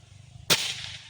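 A single sharp gunshot cracks out against a quiet low hum, followed by a brief decaying tail.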